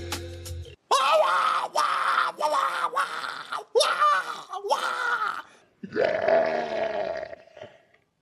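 A person lets out a series of loud, wild, strained screams imitating a crazed rabbit baboon, about six harsh bursts with short gaps, the final one lower and more drawn out.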